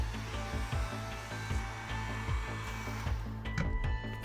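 A heat tool blows steadily on craft foam being heated for curling, a continuous whooshing hiss with faint rhythmic knocks as the tool moves, close and alone with no talk.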